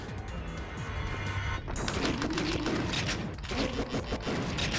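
Rapid, continuous gunfire from the House of the Dead 3 or 4 light-gun arcade game, a dense barrage of shots with crashing impacts during a boss fight, loud and unbroken throughout.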